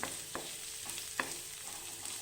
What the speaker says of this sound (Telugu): కాస్త మగ్గిన తర్వాత కరివేపాకు వేసుకుని కొద్దిగా కలుపుకోవాలి